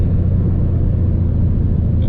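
Car engine with a stock exhaust whose muffler has broken off, newly fitted with a Terminator X engine management system, giving a steady, loud low rumble that runs continuously with no talk over it.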